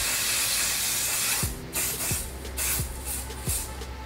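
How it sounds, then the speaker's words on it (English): Setting spray spritzed onto a face during a summer natural makeup routine: a steady hissing mist lasting about a second and a half, then several short spray bursts in quick succession, close and clear with no talking. "I'm just gonna give my face a real quick spritz of this to just help set everything in place"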